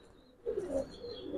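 Giribaz and colored pigeons cooing close by, a soft low burbling coo starting partway through and continuing in a couple of rolling phrases.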